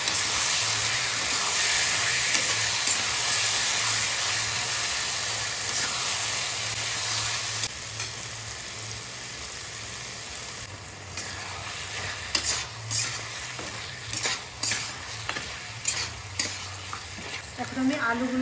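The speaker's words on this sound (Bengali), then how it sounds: "এখন আমি এটাতে মাংসটা দিয়ে দেব। আর সাথে দিয়ে দেব ডুম ডুম করে কেটে রেখেছিলাম পেঁয়াজগুলো।" Mutton and chopped onions sizzle loudly in hot oil, a steady dense hiss that softens midway, then gives way to irregular scraping stirs and clatters of a spoon in the pan toward the end.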